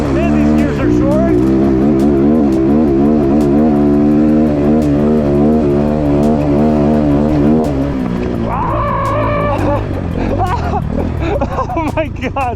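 Brand-new 250cc dirt bike engine revving hard on a hill climb with short gearing, with a loud rising and falling engine whine through several gear changes. A voice speaks over it toward the end.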